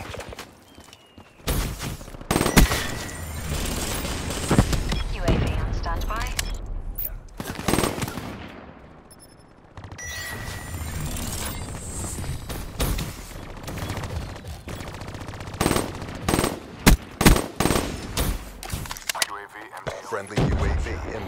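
A hardened sentry turret firing in Black Ops III multiplayer Domination on the map Fringe: sharp, rapid bursts of automatic gunfire and clattering shots come in clusters, with quieter gaps between and a voice heard at times.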